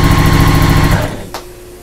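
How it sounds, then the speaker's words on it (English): A sewing machine stitches a fabric bag handle with a short backstitch, giving a loud, rapid mechanical whir that stops after about a second, followed by a faint click. "do a little backstitch just to hold and make it really strong"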